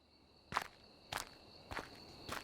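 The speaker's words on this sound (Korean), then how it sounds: "자신을 따라오는 발소리에 고개를 돌려 뒤를 바라보았다" Footsteps of someone following a person walking home, four evenly spaced steps about half a second apart, moderately close and quiet against a faint insect-like background hiss.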